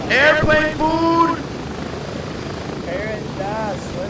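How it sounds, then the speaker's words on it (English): The low, constant rumble of a helicopter in Grayzone Warfare runs beneath loud, animated speech at the start and again toward the end. "Get to the chopper!"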